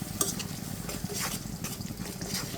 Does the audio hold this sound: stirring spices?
yes